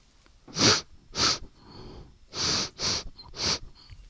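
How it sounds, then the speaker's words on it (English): Close, loud sniffs at a wooden pencil shaft, five or six short sharp inhalations in two quick clusters with brief pauses between them. "I'm just going to go in for a sniff."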